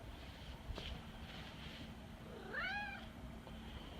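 A pet cat gives a loud, drawn-out meow near the end, rising then falling, close to the microphone over a steady low background hum; a faint thump comes earlier.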